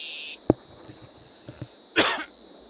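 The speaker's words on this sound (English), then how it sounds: "I had to cough a bit." A man coughs twice, sharp isolated bursts separated by a quiet pause, over a faint steady hum from a Farming Simulator 22 session.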